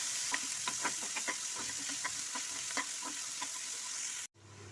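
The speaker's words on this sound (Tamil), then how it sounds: "இப்போ வெங்காயத்தை நல்லா வதக்கிக்கோங்க." Onions sautéing in oil in a pan with cinnamon and cloves, a steady close sizzle broken by repeated stirring scrapes and clicks, ending abruptly in a brief quieter hum.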